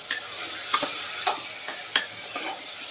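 Tomatoes and mixed vegetables fry in a pan for veg pulao: an even sizzle punctuated by regular spatula taps and scrapes every half second or so, close and alone.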